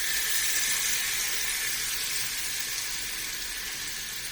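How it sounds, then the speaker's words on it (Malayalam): Chicken pieces sizzling in hot sunflower oil in a pan, with a steady, loud, bright hiss of frying that holds without pause and fades slightly toward the end. "നമ്മൾ ഇനി ചിക്കൻ ഇതിലോട്ട് ഇട്ട് കൊടുക്കാം."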